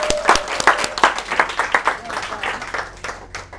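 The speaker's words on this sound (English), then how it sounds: "Can we have a round of applause for her," A lively round of applause from an audience at a stress-management talk, close and loud, the dense clapping thinning out over a few seconds.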